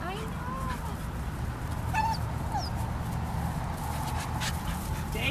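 A Labrador dog whimpering, with a few faint, brief high whines over a steady background hum, fairly distant.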